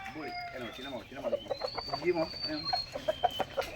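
Chickens and fighting cocks cluck and call on a small farm in San Carlos, Pangasinan, with several birds close by chattering in quick bursts while a person talks over them.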